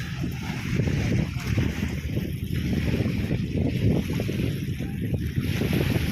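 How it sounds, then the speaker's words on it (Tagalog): Wind rushes over choppy open sea on a fishing trip, with waves slapping and churning in a continuous rough wash close by. "Maalon ng hangin."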